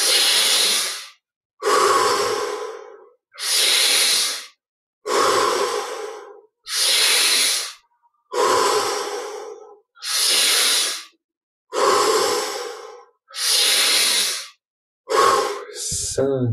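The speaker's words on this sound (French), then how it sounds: "Prenons un peu plus d'air à chaque inspire pour les 10 dernières." Slow deep breathing during a guided meditation, about ten long, loud, airy breaths in an even rhythm with short silences between, close up, then a couple of quicker final breaths.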